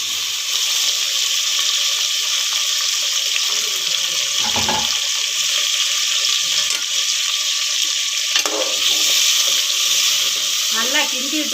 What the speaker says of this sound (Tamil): இப்போ நம்ம தக்காளியை போட்டுருவோங்க.